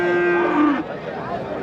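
A cow moos once at a cattle market in Tamil Nadu, a loud, close, drawn-out call that bends downward before fading into background murmur.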